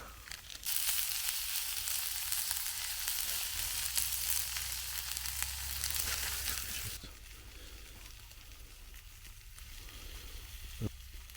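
Burgers topped with cheese slices sizzle loudly in a pan over an open campfire in the woods. A strong, continuous frying hiss fills the first seven seconds and then drops to a softer, steadier sizzle.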